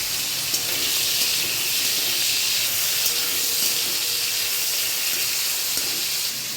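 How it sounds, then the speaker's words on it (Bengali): Prawns frying in oil in a wok, producing a steady, close, even hiss of hot oil with no talk and only faint small clicks. "চিংড়ি মাছগুলো ভেজে নেব, কিন্তু খুব বেশি কড়া করে ভাজবো না"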